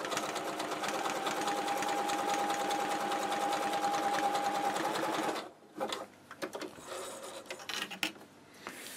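A Janome QC2325 sewing machine stitches a wide zigzag, a steady close mechanical whir with a fast rhythmic needle beat for about five seconds, then it stops and scattered handling knocks and rustles follow.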